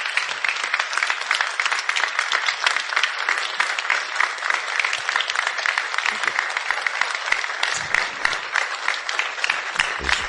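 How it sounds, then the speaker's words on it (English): A standing ovation follows an inspiring talk on faith in the workplace, a thick, sustained roar of applause from a large crowd that stays loud and even for the full stretch. "the crowd is on their feet"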